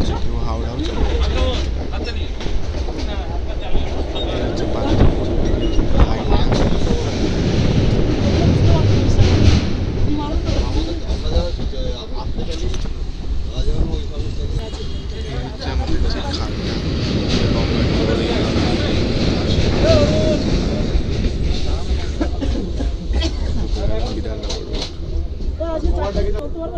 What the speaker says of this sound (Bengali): তো ট্রেনটা এখন বিধাননগর দিয়ে ছাড়লো